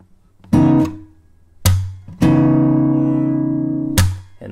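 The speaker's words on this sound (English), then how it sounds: "Give it a little bump, then a slap, and then another bump." Guitar notes struck with sharp percussive attacks: a thumb bump, a slap, a long sustained chord, then another slap, played slowly and clearly, no voices.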